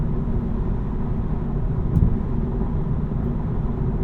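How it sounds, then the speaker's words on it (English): Steady broadband road and tire roar inside a 2024 Honda Civic Touring cruising at 70 mph, a constant low rumble filling the cabin with one brief bump near the middle and no talking. "As you can hear now, probably the road noise is significant here at 70 miles an hour"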